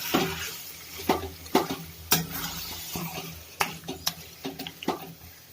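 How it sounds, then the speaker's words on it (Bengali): Marinated chicken pieces stir-fried in oil in a pan for a chicken and cauliflower curry, with an utensil scraping and clattering against the metal in irregular strokes over a soft, steady sizzle, close by. "এবার আমি একটুখানি মাংসটাকে মিনিট 2 এটাকে কষিয়ে নিচ্ছি।"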